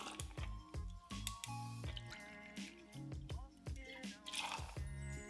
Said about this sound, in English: We're going to put 3 ounces of gin in here using Tanqueray